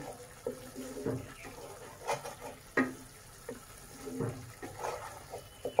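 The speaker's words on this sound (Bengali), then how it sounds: "পেঁয়াজটা কষতে একটু সময় লাগবে।" Onions frying in a pan with salt for a Bengali bhola fish curry, giving soft intermittent sizzling and stirring scrapes at close range, with no talk.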